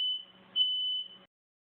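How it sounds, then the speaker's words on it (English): A smoke alarm goes off while pork steaks cook. It gives two high, piercing electronic beeps, the second longer, then cuts to silence. The sound is fairly quiet and heard alone. "The alarm just went off again."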